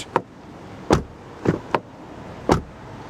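Rear doors of an Audi Q6 e-tron opening and closing, five crisp thuds and latch clunks at irregular intervals, heard up close with nothing else around them.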